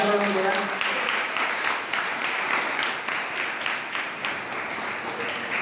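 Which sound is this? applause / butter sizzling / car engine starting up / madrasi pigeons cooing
applause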